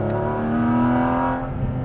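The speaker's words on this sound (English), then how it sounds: "we can really hear the sound of this car" Porsche 718 GT4 RS with stainless steel exhaust and titanium tips, its engine holding a steady, loud, rich drone close by for a couple of seconds before easing off slightly, with no talk over it.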